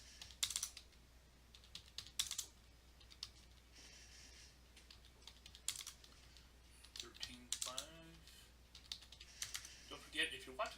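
Rapid keystrokes on a computer keyboard as numbers are entered into an Excel 2016 spreadsheet, with irregular bursts of close, crisp clicks running throughout and brief pauses between runs.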